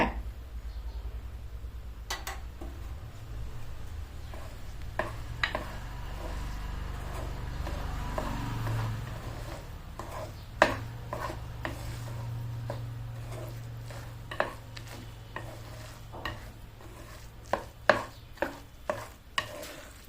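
A spoon stirs rice and lentils with dry ginger powder in a pot, giving a quiet soft churning broken by scattered scrapes and taps that come sharper and more frequent toward the end.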